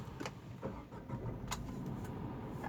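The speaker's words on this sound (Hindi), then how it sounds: "आप सुन सकते हैं कैसी आवाज़ है इंजन की" Engine of a 2021 Tata Nexon XE running steadily inside the cabin with the fan switched off, a continuous low hum with faint clicks and brief higher noises on top, no talk.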